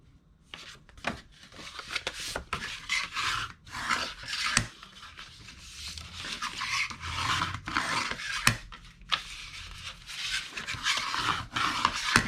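Cardstock for a DIY gift box being folded and burnished along its score lines, with repeated scraping and rubbing strokes, some sharp and some longer, and soft creasing noises between them, close and fairly quiet.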